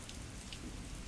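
Steady rain pours down in a dense, even hiss with low rumbling patter on a surface, constant and loud throughout with no voices.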